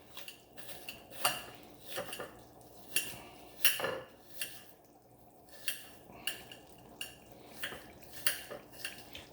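A kitchen knife chops food on a cutting board, producing a series of sharp, close knocks at an uneven rhythm, about a dozen strikes with faint clinking between them.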